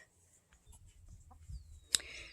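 Faint clucking from chickens nearby in a quiet setting, followed by a sudden sharp squawk near the end.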